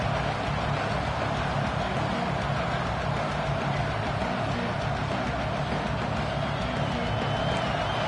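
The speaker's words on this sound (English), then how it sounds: "Decibels rising as the crowd gets behind this defense on third down." A football stadium crowd on third down makes a dense, steady roar of many voices, loud and unbroken, with no single voice standing out.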